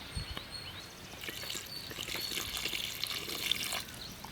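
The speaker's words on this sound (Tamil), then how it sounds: "கறி வேகிறதுக்காக தண்ணி ஊற்றி கொஞ்ச நேரம் வந்து கொதிக்க விட்டுறலாம்" Water pours steadily into a pot of rabbit curry with a hissing, splashing rush, fairly close and with no voices.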